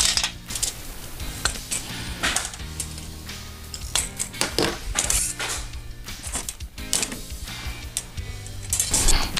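Tin snips cut through a metal floor transition strip for a tile-to-laminate reducer, giving loud, close metallic clicks and crunching snips in an uneven rhythm, with no talking.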